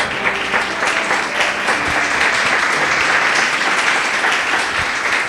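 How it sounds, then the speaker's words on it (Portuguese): Church congregation clapping loudly in praise during a service, a dense, sustained roar of many hands filling the room, steady and continuous throughout. "Louve a Deus com as suas palmas, bem forte."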